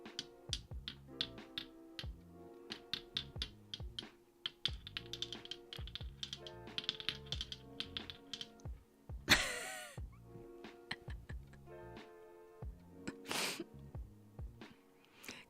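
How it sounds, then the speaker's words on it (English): Small glass nail polish bottles click and tap together in quick, close, irregular bursts, a busy run of light clinks with a couple of sharper louder knocks, and no talking. "The sound of nail polish bottles clicking together is grade A ASMR"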